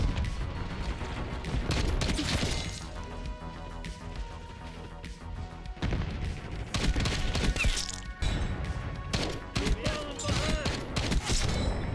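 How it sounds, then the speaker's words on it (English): Marksman rifle fire in a Black Ops 6 match, with dense bursts of shots, impacts and crashes layered over game music and effects, loud and near throughout. "All right, now let's work on the marksman rifle."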